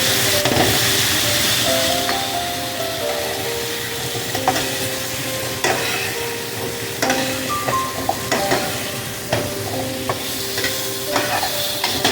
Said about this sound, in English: I'm going to also just sear them just a little bit